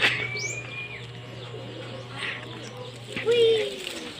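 Pigeons coo and flutter close by, with a few birdcalls and someone talking over a steady low hum.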